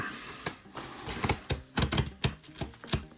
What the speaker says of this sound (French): C'est parti pour le déballage.